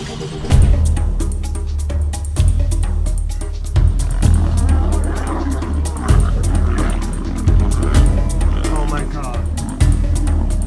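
A lion roars in deep, rumbling bursts that repeat at intervals, loud and close, mixed with other low noise and a voice talking over it.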